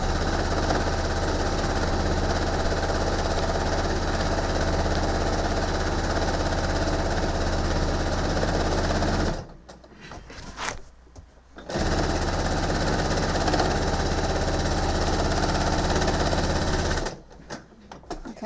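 A sewing machine stitches quilt binding in steady, loud runs, pausing briefly twice as the fabric is adjusted, then resuming its continuous mechanical whir.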